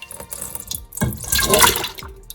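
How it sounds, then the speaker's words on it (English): A whole can of peaches is tipped, juice and all, into a baking dish for peach cobbler: soft plops, then a loud gushing pour of syrupy liquid close by, trailing off into drips, with no speech. "you're going to pour the whole thing in, juice and all"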